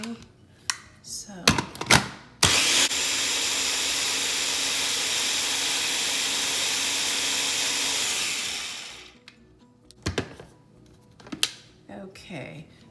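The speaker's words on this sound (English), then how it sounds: "I just like placing mine in the blender. It does the job a lot faster for me" A blender runs for about six seconds, mixing keto strawberry ice cream base, a loud steady whirring roar that starts abruptly and winds down, framed by clinks and handling noises before and after.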